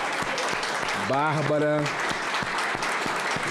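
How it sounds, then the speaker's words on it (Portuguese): A crowd in a legislative hall gives a standing ovation, with sustained dense clapping throughout and someone speaking over it. "aqui aplaudida de pé"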